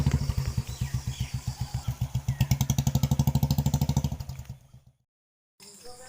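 A motorcycle engine chugs with a steady pulsing throb, close by, then cuts out abruptly into silence before a faint rumble returns.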